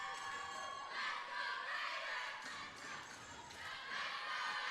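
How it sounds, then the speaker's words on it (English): A high school girls' varsity volleyball crowd in a gym cheers and shouts steadily, a loud, dense roar that swells and dips slightly throughout. "And an excited Shea crowd up there"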